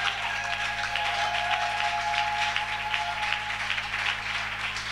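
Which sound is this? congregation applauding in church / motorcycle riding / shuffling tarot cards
congregation applauding in church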